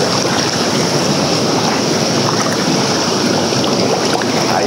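Whirlpool hot tub jets churning water into bubbles, a loud, dense, steady rushing and frothing roar that fills the whole stretch without pause, heard close with no talking over it.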